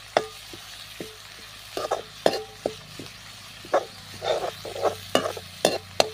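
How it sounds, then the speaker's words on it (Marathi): Vegetables stir-fried in oil over a wood-fired stove for veg manchurian: a low sizzle with repeated sharp scrapes and taps of a spatula against the pan, irregular and close. "तेलावरती भाज्या ह्या छान परतून घ्यायच्या आहेत"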